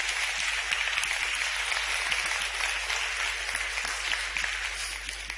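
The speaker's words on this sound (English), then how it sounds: "Give another round of applause" A room of audience members at a music lesson event gives a round of applause, moderately loud, even clapping that holds steady and tapers slightly toward the end, with no talk over it.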